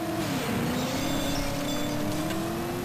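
Steady car engine drone with a tire-skid tone from the Driver video game as the car loses control, held at an even moderate level for about three seconds with no voices.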